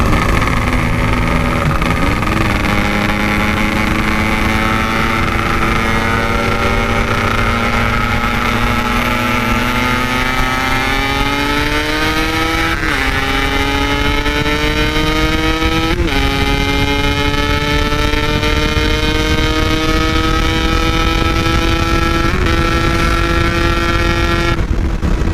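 A Yamaha RX King two-stroke motorcycle engine revs hard, its raspy buzzing tone rising in pitch across several throttle pulls with brief dips between them, loud and close throughout.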